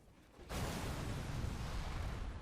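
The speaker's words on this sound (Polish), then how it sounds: "Auto zaraz wybuchnie." A car blowing up in PUBG: after a brief quiet moment, a sudden loud blast erupts and settles into a sustained, heavy roaring rumble that carries on to the end, with no talk.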